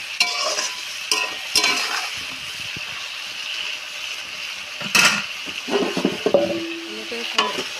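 Food fries in a very hot pan with a bright, steady sizzle, punctuated by a few sharp spoon-on-metal scrapes and clatters, close up and with no voices.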